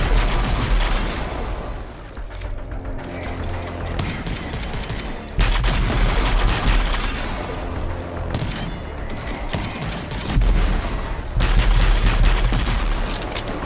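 Bombs exploding in the video game Rage 2, in the Dune Sea area: loud, repeated booming blasts and crackling bursts that come in several distinct waves, close and intense, with no talking.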